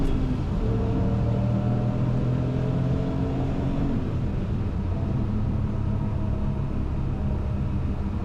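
Porsche 993 911 Twin Turbo engine droning steadily from inside the car on a test drive, a low continuous rumble with a rising tone that drops back around a gear change, loud and unbroken with no talk.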